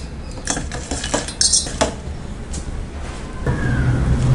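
Palm jaggery being stirred to dissolve in a pan on a gas stove, with a metal spoon clinking and scraping against the pan, close and fairly loud, then a low burner rumble building at the end.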